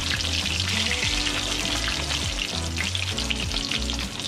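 A cod fillet frying in hot oil gives a loud, dense, continuous crackle and bubble, with a low rumble underneath as the piece is flipped.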